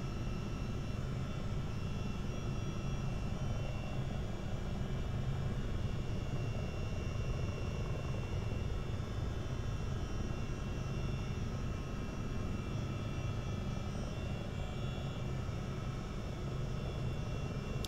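Simulated Chinook CH-47D tandem-rotor helicopter in Microsoft Flight Simulator 2024 flying low over a base, a steady dense engine and rotor roar that stays loud and constant throughout with no talking.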